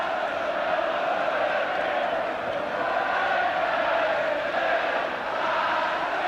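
Football crowd at a 1976–77 League Cup match between Aston Villa and Everton, a steady, broad roar of cheering that holds throughout without a break.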